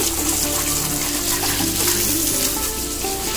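Water from a motor-fed pipe gushing steadily during household cleaning, a loud, continuous splashing rush with no breaks.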